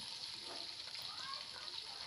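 Onions frying in a spiced oil tempering for a vermicelli dish give a steady, soft sizzle that crackles lightly throughout, with no talking.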